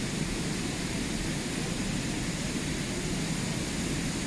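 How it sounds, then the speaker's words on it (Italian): Niagara Falls heard from behind the cascade, a dense, loud, unbroken roar of falling water filling the whole clip with no pauses or other sounds. "Si sente molto di più proprio la potenza delle cascate."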